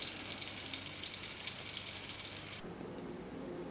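Sausage frying in a pan for a one-person brunch, a dense steady sizzle close by that suddenly drops to a softer crackle near the end.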